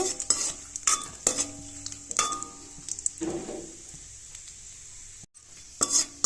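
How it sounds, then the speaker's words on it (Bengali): Almonds frying in hot ghee in a pan, stirred with repeated scraping strokes over a steady close sizzle, with a brief dropout near the end. "লাল লাল করে ভাজা করে নেব।"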